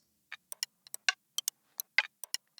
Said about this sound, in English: So I found this loop that sounds like this